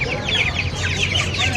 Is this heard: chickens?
yes